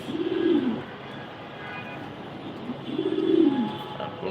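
Two low, rolling coos from pigeons, about two seconds apart, close by with a soft murmur of background noise between them.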